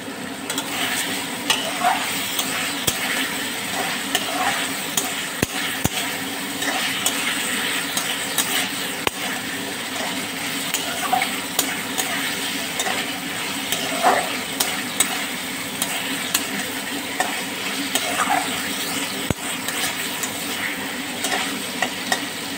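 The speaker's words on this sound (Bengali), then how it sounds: "এইবার নুন হলুদ দিয়ে সেদ্ধ করা ডিমগুলো আমি ছেড়ে দেবো।" Boiled eggs coated with salt and turmeric fry in a pan with a steady, crackling sizzle, punctuated by occasional scraping stirs and faint utensil knocks throughout.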